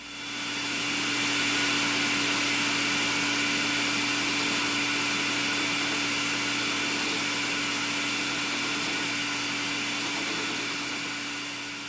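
Barrel trimmer cutting a brass pen tube on a lathe gives a steady, continuous whirring hum with a constant tone, moderately loud and unbroken for about twelve seconds.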